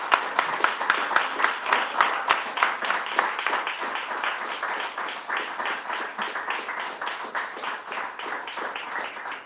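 An audience at a live poetry evening applauds, with dense, sustained clapping from many hands in a hall that slowly thins, and a little voice mixed in.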